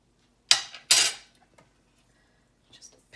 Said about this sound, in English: now we are going to give it a stir